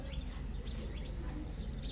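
A sparrow chirps in short, quiet bursts at a nest site where a chick has fallen, faint high calls scattered over a steady low background rumble.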